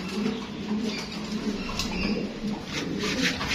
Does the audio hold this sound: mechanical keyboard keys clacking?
no